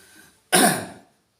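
A single short throat-clearing cough, close and fairly loud, bursting out after a brief quiet moment and fading within half a second.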